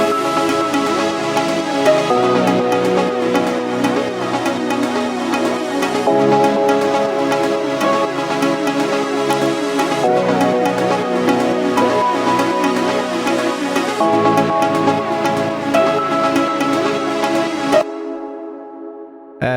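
An afro house instruments group playing back in Ableton Live, a steady layered groove of percussion, bass and tonal synth parts running at an even level for about eighteen seconds before cutting to near silence.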